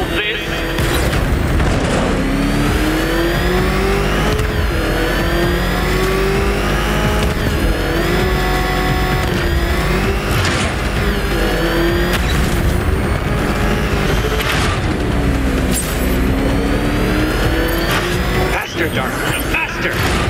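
Batmobile engine in Batman: Arkham Knight revving hard and continuously, a loud sustained roar with rising and falling pitch and occasional heavy booms, with a voice speaking over it.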